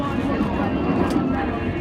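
A jet roars steadily at an air show at the Traverse City cherry festival, a loud broadband rumble filling the whole moment with a voice talking over it.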